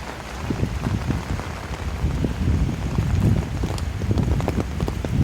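Wind rushing along an empty rainy night street in Paramaribo, Suriname, a steady, loud broadband roar with rain-like patter that swells slightly midway and never lets up.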